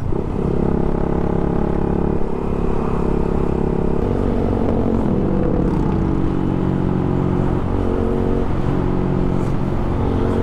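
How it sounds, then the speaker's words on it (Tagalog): A motorcycle fitted with an SC Project full-system exhaust revs on a New Year's Eve night ride, giving a loud, continuous engine drone whose pitch rises and falls midway. No one speaks. "Ito na nga pala yung bago nating pipe guys. So naka-SE project na tayo, na syempre naka full system pa rin."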